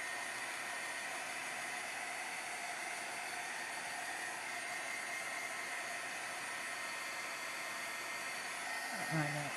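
A heat tool or hair dryer blows steadily over a watercolor card with masking fluid, a continuous close whooshing hiss held at even loudness, cut off abruptly near the end.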